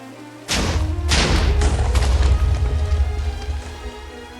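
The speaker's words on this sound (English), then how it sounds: "you can add more TNT to get a bigger explosion" A sudden Minecraft TNT explosion bursts out, followed by a second blast and a rumbling, crackling decay that slowly fades.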